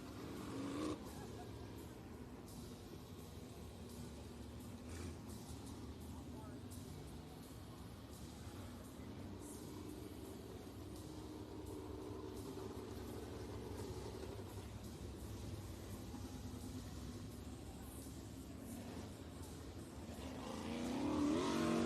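Race cars circle a dirt oval during a practice session at Eagle Raceway in Eagle, Nebraska, a steady engine drone that builds louder near the end, with people talking over it.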